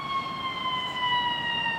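Police or ambulance siren in a Chicago park, a steady wailing tone in the distance that slowly falls in pitch, heard alone against faint outdoor background noise.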